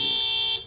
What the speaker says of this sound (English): They set off their car alarm.